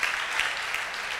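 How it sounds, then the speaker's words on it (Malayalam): Audience at a teens' camp career guidance session applauding, a dense steady patter of many hands clapping together, loud and continuous through the short burst. "അവർക്ക് ഒരു നല്ല കൈയടി എല്ലാവരും കൊടുക്കണം."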